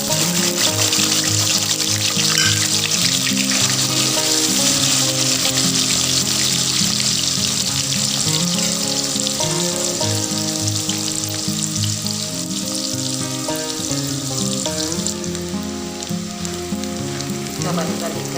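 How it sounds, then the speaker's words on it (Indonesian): Tempe sizzles and crackles in hot oil throughout, a loud, continuous frying hiss with a faint stirring clatter underneath and no talk. "Minyaknya sudah panas, kita masukkan tempe yang sudah digaring ya"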